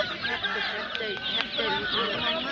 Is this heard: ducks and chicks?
yes